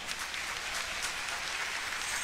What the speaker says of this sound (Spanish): Pongamos un momentito el bomboncito y demos un fuerte aplauso.